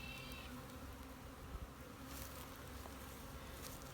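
Honeybees buzz in a dense, continuous drone at an opened hive crowded with drones in spring in Durango, Colorado, a steady low hum with no talk over it.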